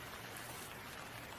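Heavy rain in a Hindi animated cartoon, a faint, steady hiss of downpour that continues unbroken without any talk over it.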